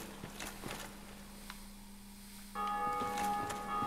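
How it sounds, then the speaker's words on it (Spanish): In the Dark Souls video game, a bell rings out with a sustained bright tone that enters abruptly partway through, after a stretch of scattered footsteps and clanks. "alguien ha tocado la campana"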